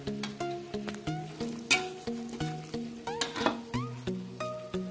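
Shredded chicken abon sizzles in a pan over low heat while being stirred steadily, a continuous crackling fry with rhythmic scraping strokes, close-up, with light music running underneath.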